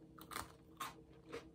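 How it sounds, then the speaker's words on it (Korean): Three crisp bites into a butter cookie, sharp crunches spaced evenly and close to the microphone, heard alone against a quiet background. "간단하게 버터쿠키 먹으려고요."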